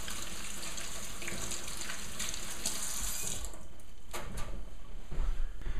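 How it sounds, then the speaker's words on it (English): Tap water runs steadily over hands being rinsed in a kitchen sink while making cucumber kimchi, a continuous close splashing stream with brief louder splatters toward the end. "I'm going to rinse off my hands again."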